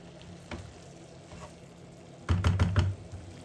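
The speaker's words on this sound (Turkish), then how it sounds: "Biraz salçamızı kavuracağız." Tomato paste frying in a pan for kapuska, Turkish cabbage stew, with a quiet sizzle that swells into a louder burst of crackling and spattering before easing off.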